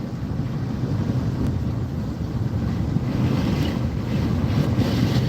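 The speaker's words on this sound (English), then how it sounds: "We have probably a constant 40 mile an hour wind coming in from our right now." Strong, constant wind of Tropical Storm Ophelia near the eye wall at Emerald Isle, North Carolina, roaring and buffeting the microphone in a steady, loud rumble with surf-like wash throughout, no talking.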